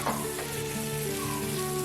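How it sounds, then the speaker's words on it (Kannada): Paneer frying in oil with a tomato paste masala sizzles steadily and close, a dense crackling hiss with faint stirring and no talk. "ಆದಮೇಲೆ ನಾವು ಇದು ಫ್ರೈ ಮಾಡ್ಕೊಂಡಿರೋ ಪನೀರನ್ನ ಹಾಕಬೇಕು."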